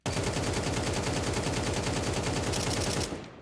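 Rapid automatic gunfire from a rifle in the shooter game CS2, a loud unbroken burst of closely spaced shots lasting about three seconds before cutting off into a short fading tail.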